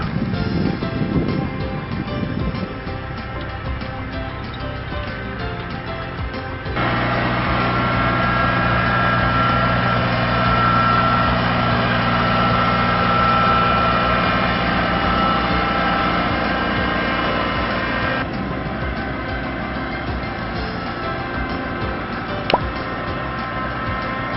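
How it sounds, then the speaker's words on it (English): A tractor engine runs steadily in a flooded cranberry field, droning at a constant pitch with a strong hum in the middle section and quieter stretches before and after. "we go over fields with a tractor like this or similar"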